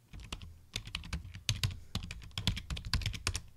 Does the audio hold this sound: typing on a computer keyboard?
yes